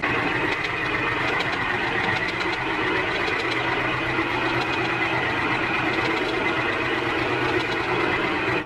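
A twelve-stitch domestic sewing machine running continuously under foot-pedal control, a steady close whirring hum with a fast needle rattle sustained throughout and stopping at the end.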